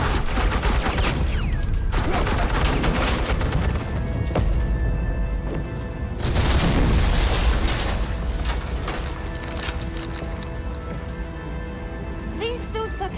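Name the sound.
suppressing gunfire from a video game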